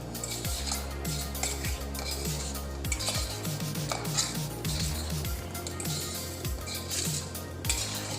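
Boiled potatoes and paneer are tossed with a little salt in a bowl, giving soft stirring and scattered clinks of a utensil against the dish, with steady background music throughout.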